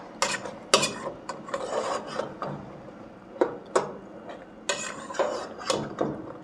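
Seasoned food mixed with black pepper in a pot or bowl, giving rough scraping and rubbing strokes in an uneven rhythm with occasional sharper clinks, close and fairly loud, with no talking.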